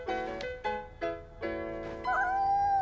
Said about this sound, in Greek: Είναι ένα γατάκι, ένα γατάκι!